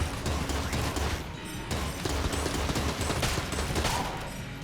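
Dense, sustained gunfire from a laser-sighted gun in the game Enter the Gungeon, a loud continuous stream of rapid shots with crashing impacts that runs the whole time, with no talk over it.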